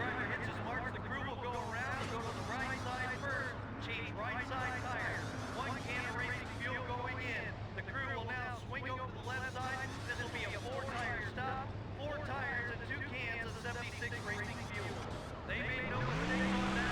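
A stock race car engine in the NASCAR Thunder 2004 video game pulls out of pit lane at the New York track, a steady loud drone with faint tire noise that holds throughout under continuous talk.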